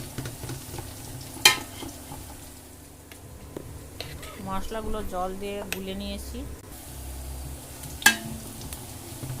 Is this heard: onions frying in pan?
yes